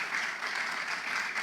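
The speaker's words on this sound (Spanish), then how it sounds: "Un fuerte aplauso para ella" Church congregation applauding steadily, a dense wash of many hands clapping throughout at moderate volume, with no voices standing out.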